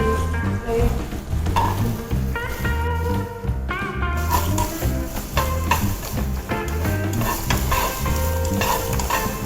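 Food sizzles and fries in a hot pan with about a tablespoon of oil for a creamy mushroom sauce, while a utensil stirs and scrapes in repeated strokes, close and lively throughout.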